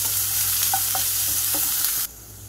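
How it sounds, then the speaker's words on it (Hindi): Green chilli and onion frying in a pan, a steady close sizzle with a few stirring scrapes that cuts off abruptly near the end. "इसके बाद यहाँ पर मैं डाल रही हूँ हरी मिर्च और प्याज। प्याज के सॉफ्ट होने तक इसे हम भूनेंगे।"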